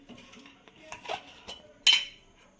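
Metal spoon clinks against a pot or bowl while ginger garlic paste goes into a mutton kheema curry, a few scattered light taps ending in one sharper, louder clink.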